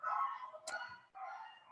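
Dogs bark and yip in short, sharp bursts, a couple of close barks with softer whining between them, heard alone and fairly quiet.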